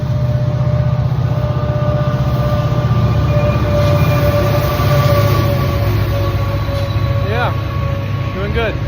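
A train rumbles past near the Mississippi River in the town of Chester, a loud, sustained low roar with steady tonal whine and squealing wheel sounds near the end.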